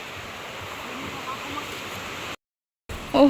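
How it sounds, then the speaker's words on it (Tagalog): A strong river current rushes past in a broad, steady wash of flowing water. After a brief cut to silence, the water returns with a louder burst. "malaki po talaga yung nilaki ng agos"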